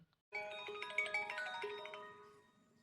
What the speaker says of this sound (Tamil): இவ்வளோ நேரம் ஃபோன் ரிங் போயிட்டு இருக்குது